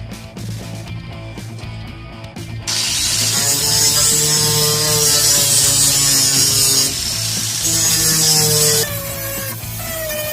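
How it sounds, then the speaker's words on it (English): A power grinder works on metal around spots to be welded for a hole patch. It runs loud and steady, jumping to a harsher, fuller whine after a couple of seconds and holding there with a slight drop near the end. "I'm going to grind around the areas where I'm going to weld"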